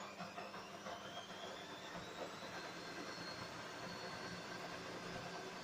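A Beko washing machine drum spins in test mode, giving a steady, continuous whirring rumble with no pauses and no talk over it.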